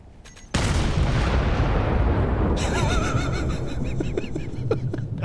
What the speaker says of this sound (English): Fire the big cannon.